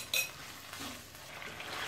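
Chicken pieces for roasted chicken are added and stirred in a bowl, a brief sharp clink of a utensil followed by soft, quiet scraping and mixing sounds, no talking.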